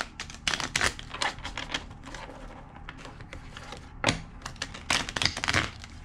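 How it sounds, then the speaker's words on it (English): A deck of tarot cards shuffled vigorously up close, giving rapid crisp clicks and riffling bursts in uneven clusters, loud and dry, with no one talking. "Two more shuffles."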